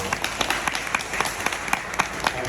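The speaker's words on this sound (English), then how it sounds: "Big round of applause for Daniel" Audience applause at a neighborhood business district annual meeting, a brisk, steady crowd clapping close by with distinct individual claps popping out of the rolling patter.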